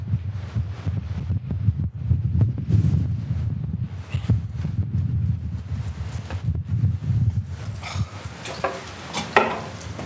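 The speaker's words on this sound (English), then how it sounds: "sorry if it's too windy" Wind gusts across the balcony of the abandoned Hotel Belvedere in Croatia, a steady low rumble and buffeting against the microphone with scattered rustling and knocks, no speech.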